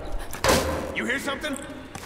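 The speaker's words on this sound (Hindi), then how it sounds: "पहले दरवाजा खोलते हैं," In Tomb Raider (2013), a door swings open with a heavy thud and a short slam near the start, followed by fainter creaks and low scraping, with quiet game ambience in the background.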